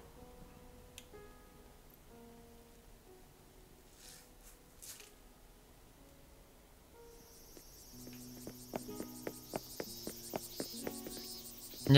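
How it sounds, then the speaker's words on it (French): Cicadas and a cricket in Animal Crossing: New Horizons, a quiet outdoor scene of sparse tones that builds into a bright buzzing cicada drone with steady rhythmic cricket chirps in the last seconds, no talk. "Nouvelle cigale et un criquet."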